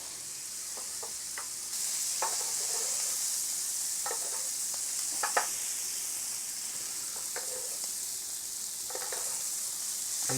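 Venison steak from a fallow buck sizzling in a hot pan with butter, a steady close frying hiss with scattered pops and crackles throughout, no talking.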